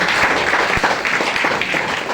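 An audience at a business meeting gives a loud, dense round of applause that continues steadily throughout, heard alone without talk.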